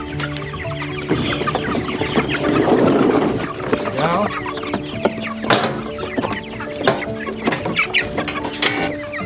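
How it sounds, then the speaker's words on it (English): Meat chicken chicks on pasture cluck and peep in a busy, close chorus, scattered bursts over mechanical rattles and brief talk. "The chicks have graduated to the outdoors."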